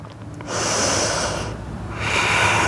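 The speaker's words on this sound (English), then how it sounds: "Breathing in and out of the nose." Two slow, even breaths drawn in and out through the nose during a yoga session, each a soft, airy rush heard close and alone.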